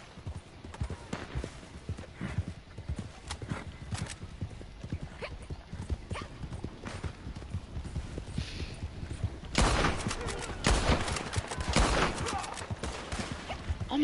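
Sharp rifle gunshots from the Red Dead Redemption 2 Online video game crack among steady horse hoofbeats, growing into a loud cluster of shots late in the stretch.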